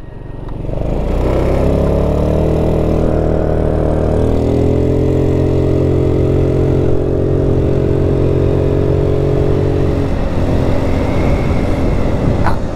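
A Chinese 150cc scooter engine hums steadily during a ride, loud and close, its pitch rising after a start and then holding a fairly even drone before easing near the end.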